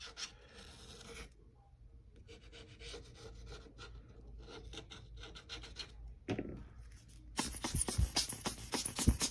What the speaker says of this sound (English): I just sometimes loosen it up with a set of tweezers going around